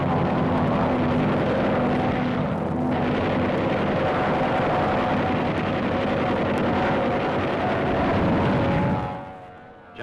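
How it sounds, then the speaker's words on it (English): An enemy interceptor aircraft in wartime combat roars past as a loud, sustained engine drone with rumbling noise throughout, fading at the end. "Comes an enemy interceptor."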